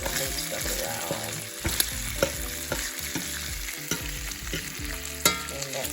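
Food frying steadily in a pan on medium heat, crisping as it is pushed around, with a continuous sizzle punctuated by scraping and clicking stir strokes, close and alone.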